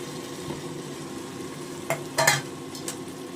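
A ground coriander, mint and curry leaf paste cooks in a pan for green biryani: a soft sizzle runs under scraping stirs, with a cluster of louder clanks and scrapes near the end, and no voices.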